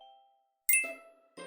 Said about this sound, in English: Sound comes from the bell trembling.